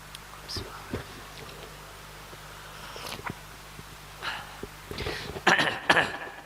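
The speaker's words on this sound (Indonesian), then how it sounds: "Batukan." A few scattered, brief coughs and throat-clearing bursts come from a person in a mosque gathering, with one louder cluster near the end, over a quiet room hum.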